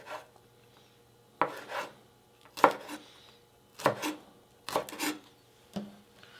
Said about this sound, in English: go ahead and slice your green onion.